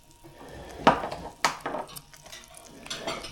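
A utensil stirring and breaking up egg in a cooking pan with salt and garlic, several sharp scraping knocks against the metal and softer shuffling between them, close by.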